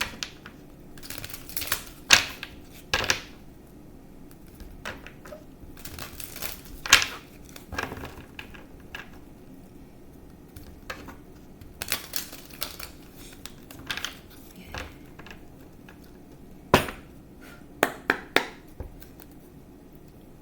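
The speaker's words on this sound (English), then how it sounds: "I'm going to shuffle the cards." Tarot cards being shuffled by hand, with a run of crisp riffling and tapping bursts spread irregularly across the stretch, close and fairly quiet, with no talking.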